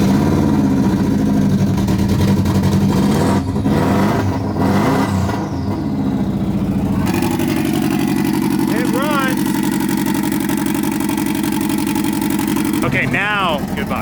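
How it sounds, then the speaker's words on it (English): Turbocharged AWD rally car engine running open turbo with no downpipe, a loud, raw roar and rumble that shifts pitch partway through, with people talking over it near the end. "a clip of it running open turbo because it has no downpipe"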